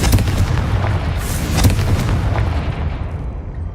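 Confringo fire blast spell cast in the Hogwarts Legacy video game, a loud booming burst with rumbling crackle that keeps going across the whole stretch, with several sharper blasts standing out in the middle.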